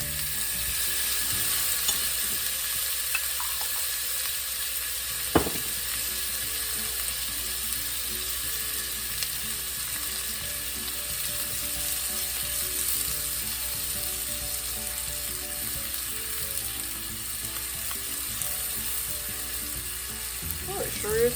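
Minced garlic sizzling in a pan with onions and bacon for ranch-style pinto beans, a steady close frying hiss with faint stirring scrapes and one sharp utensil knock.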